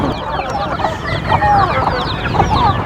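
Several chickens cluck and chatter continuously at close range in a coop, overlapping calls over a busy farmyard background.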